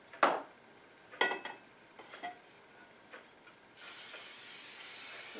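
Cooking spray hisses onto a bowl in a kitchen, a continuous spray near the end that follows a few sharp clicks and clatters of handling.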